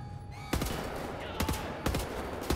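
Gunfire in the video game Wolfenstein: The New Order, a few sharp bursts of automatic shots spaced about a second apart over steady background game noise.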